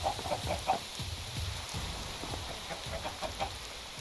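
Chickens clucking in a video game, soft repeated clucks over a steady rain-like hiss, no talking.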